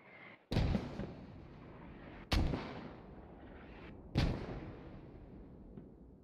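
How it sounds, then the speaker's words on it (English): Three mortar rounds explode in the Squad military video game, each a heavy, sudden boom that rumbles and fades out, spaced roughly two seconds apart. "Those mortar rounds are hitting in the field in Hotel 7"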